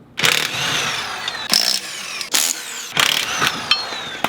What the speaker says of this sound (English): impacts can often serve a good purpose if you're working on your own car, like taking off the tires